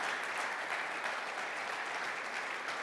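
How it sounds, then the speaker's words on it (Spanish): A church congregation applauds steadily at a service on the Resurrection of Christ, a dense, even wash of many hands clapping throughout, with no pauses. "Un aplauso a Jesucristo."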